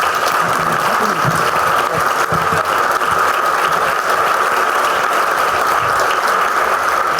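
Audience applause at a Spanish book presentation on underground mining in Aznalcóllar, a dense steady wash of clapping filling the whole stretch at fairly loud, even level.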